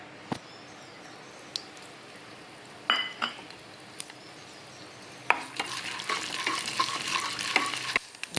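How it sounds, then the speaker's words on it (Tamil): Mustard seeds and chana dal lentils sizzle and crackle in oil in a pan with a few sharp metallic clinks and stirring scrapes, the frying growing louder and busier toward the end. "அதில் எண்ணெய் ஊற்றாச்சு. கடுகு தூப்பு, இந்த கடலை பருப்பு ஃபஸ்ட்டு ஆட் பண்ணிக்கலாம்."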